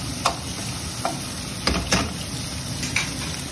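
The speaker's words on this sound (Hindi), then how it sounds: "इनको 5 से 7 मिनट तक फ्राई करना है चिकन को" Chicken pieces for jalfrezi fry in a pan with a steady close sizzle, broken by a few scraping stirs and light clinks of a utensil against the pan.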